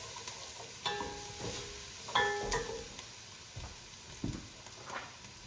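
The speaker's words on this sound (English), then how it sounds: "I'm going to go ahead and add in all the garlic. Just cooking it just for a few minutes." Garlic cooks in a pot for corned beef cabbage potato soup, giving a low steady sizzle with a few stirring scrapes and utensil clinks near at hand, and no voices.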